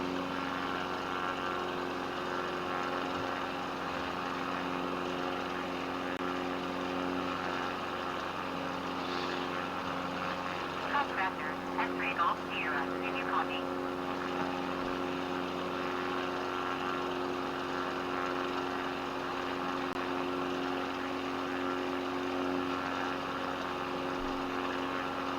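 A small propeller airplane drones steadily in flight, its engine a constant moderate hum seen from inside the cabin, with a few faint clicks and rattles midway as the flaps are adjusted.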